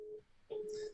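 A telephone sounds in the background with short electronic tones, a steady beep followed by a brighter chirp, heard alone without talk.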